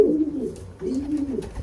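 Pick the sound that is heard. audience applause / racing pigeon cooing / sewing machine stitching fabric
racing pigeon cooing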